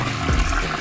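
A cartoon toilet flushes in a brief, loud whoosh of rushing water lasting under a second.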